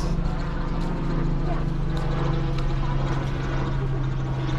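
Hawaiian hiking trail with a helicopter passing overhead: a steady droning rotor hum runs through the whole stretch over outdoor ambience.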